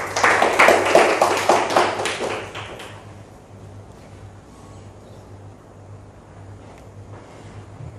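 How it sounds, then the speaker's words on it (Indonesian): A classroom group claps for a student, a short burst of brisk hand claps for the first two to three seconds that quickly dies away into quiet room tone. "Beri tepuk tangan dulu untuk Indah."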